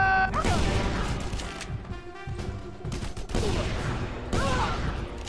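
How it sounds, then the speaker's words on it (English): Gunfire rattles in the video game Just Cause 2, a dense fusillade of rapid shots and bursts continuing throughout at close range, with a busy game soundscape. "I'm taking fire!"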